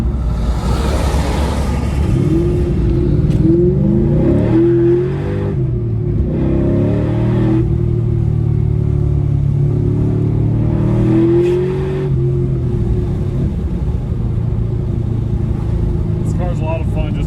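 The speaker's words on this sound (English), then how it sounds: "And the exhaust sounds awesome." A 2000 Ford Mustang Cobra R fitted with a Bassani side exhaust revs and pulls hard through several gear changes. The loud, raw engine roar rises and falls close by from start to finish, with talk over it.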